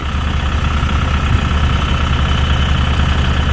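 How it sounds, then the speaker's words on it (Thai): A tractor's heavy diesel engine rumbles steadily and loudly nearby with a continuous low throb and no talking, as it pushes a dump truck stuck in mud. "รถไถก็จะดันครับ ดันครับ"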